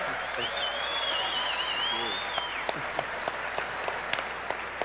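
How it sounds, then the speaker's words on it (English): Steady applause from a crowd at a BlizzCon Q&A panel, a dense wash of clapping that fills the whole stretch, with a brief whistle-like tone riding over it early on. "Big round of applause for these guys."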